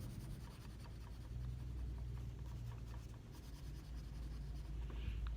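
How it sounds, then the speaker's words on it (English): Pencil hatching on paper for a dark-value drawing, a continuous soft scratchy stroking of graphite in quick repeated strokes, close and quiet with a faint low hum behind it. "So I'm just going to put my little hatching here."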